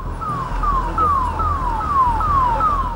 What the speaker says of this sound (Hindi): एम्बुलेंस के सायरन की बढ़ती आवाज